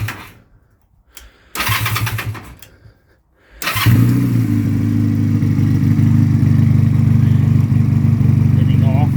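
A Honda Rebel bobber motorcycle, short on fuel, gets a few sputtering start attempts with gaps of silence, then its engine catches and settles into a steady, loud, close idle.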